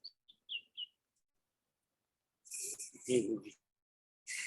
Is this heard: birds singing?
yes